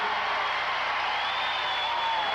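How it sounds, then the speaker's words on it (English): Steady crowd applause and cheering at a 1984 NCAA women's basketball championship game between USC and Tennessee as starters leave the court, a continuous broadband wash of clapping with faint whoops, no gaps. "listen to the applause for some of the starters as they leave"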